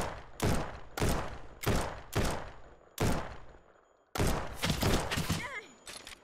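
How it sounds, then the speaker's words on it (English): Bursts of gunfire in the survival video game No One Survived at a bandit camp: six or seven loud, broad blasts in quick succession, each decaying briefly, with a short pause before a final dense volley. "somebody's shooting at us"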